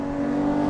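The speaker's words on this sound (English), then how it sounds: "we've been driving the 250 GTO" Ferrari 250 GTO 64 Series 2 with a V12 engine, heard as a brief, steady, loud engine note close by, with no voices.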